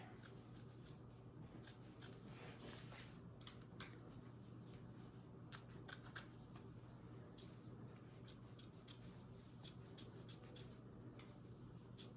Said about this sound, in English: you just need to cut your material away from that zipper overlay